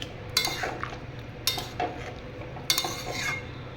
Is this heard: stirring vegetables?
yes